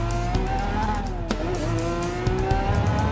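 A Lamborghini, Aventador or Huracán, held at high revs through a fast corner, its engine note droning loud and close with shifting pitch and a faint tire edge, no voices over it.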